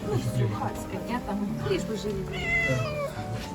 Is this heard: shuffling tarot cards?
no